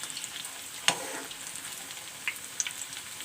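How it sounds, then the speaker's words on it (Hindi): Snacks shallow fry in a pan with a soft, continuous sizzle, broken by a few sharp clicks and scrapes as the pieces are turned. "बस हमें इसको शैलो फ्राई करना है।"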